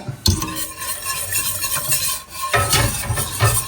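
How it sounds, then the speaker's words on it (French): A spoon works through thick mac and cheese sauce in a pot, producing continuous close wet squelching and scraping strokes with occasional louder clanks against the metal. "Et on va continuer à mélanger. Que tout s'incorpore bien comme il faut."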